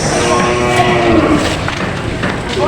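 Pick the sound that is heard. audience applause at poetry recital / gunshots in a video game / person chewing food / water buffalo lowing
water buffalo lowing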